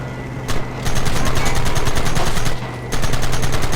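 Rapid gunfire in Red Dead Redemption, a dense stream of sharp, loud shots from several guns firing at once, with two brief pauses before the volley resumes, no voices over it.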